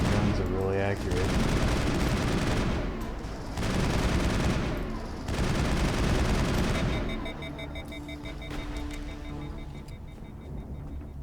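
Sustained gunfire in Mass Effect, dense rattling bursts that come in long loud stretches with short gaps, then thin out toward the end amid game sounds and electronic tones.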